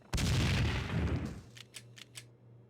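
Ingram submachine gun fire in Max Payne: a rapid, loud burst of automatic shots lasting over a second, followed by a few fainter separate shots and clinks as it dies away.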